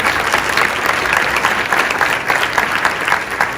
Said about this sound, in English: another round of applause for all the winners